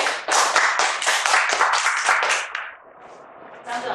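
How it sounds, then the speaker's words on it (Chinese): An audience at a lecture on traditional Chinese medicine for livestock disease control claps hands loudly and steadily for about two and a half seconds, then the clapping fades to a few scattered claps, with a brief voice near the end. "好，我们大家拍拍手。"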